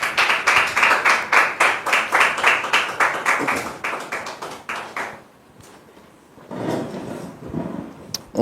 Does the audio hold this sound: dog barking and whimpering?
no